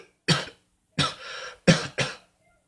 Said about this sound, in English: You begin to cough.